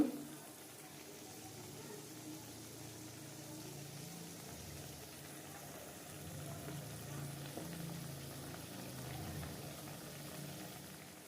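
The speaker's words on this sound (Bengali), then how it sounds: "এবার ভালো করে ঝোলটাকে ফুটিয়ে নেব" Gravy for begun paturi, an aubergine dish, bubbles in a pan: a soft, steady simmering hiss and gentle burble, faint and continuous, with no talking.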